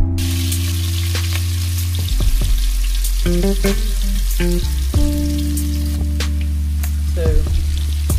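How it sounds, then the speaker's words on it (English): Tender meat sizzles and fries loudly in hot oil, a steady close crackle with occasional stirring clatter; a voice speaks a single word at the start. "Now our meat is tender after 5 minutes, so I'm going to put it in a hot oil."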